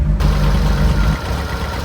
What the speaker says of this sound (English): The engine is stone cold, we've only just started it. It's running nicely.